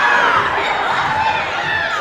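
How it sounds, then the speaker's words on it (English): Crowd at a university basketball game erupting in frantic, loud shouting and cheering, a dense wall of voices sustained throughout. "The crowd frantic as they think it should have been an over and back."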